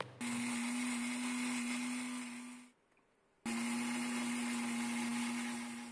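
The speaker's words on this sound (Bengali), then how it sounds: "প্রথমে 100 গ্রাম সর্ষে জলে ধুয়ে তার সাথে 4টে কাঁচা লঙ্কা আর পরিমাণ মতো নুন হলুদ দিয়ে মিক্সিতে পিষে নেওয়া হলো" A mixer grinder whirs loudly while grinding mustard seeds with green chillies, salt and turmeric, a steady high motor whine that stops briefly for about a second, then starts again and runs on.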